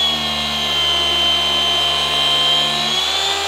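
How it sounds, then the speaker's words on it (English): A Milwaukee M18 brushless 15mm dual action polisher, model 2684-20, runs under heavy pressure with a loud, steady, high motor whine and a droning buzz that stays constant and close throughout. No one talks. "I'm gonna apply some pretty heavy pressure to the Milwaukee brushless just because I want to compare it with that 15 mil stroke"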